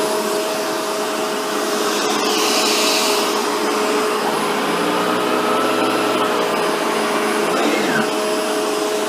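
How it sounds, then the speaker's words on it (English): Shark Rotator NV752 vacuum cleaner running steadily on low pile carpet, a loud continuous motor whine with a rushing airflow that swells briefly as the brush bar engages. "As I tilt the vacuum back, you'll notice that the brush bar kicks in and the light here will go on."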